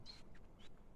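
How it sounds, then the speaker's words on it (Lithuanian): A few quick, faint high chirps from small birds, two or three short calls in quiet surroundings. "paukšteliai čiulba"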